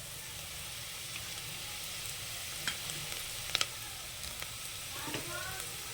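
Goat tripe sizzles and crackles in hot oil with turmeric in a pan, a steady frying hiss with a few sharp pops and stirring clinks, close and alone.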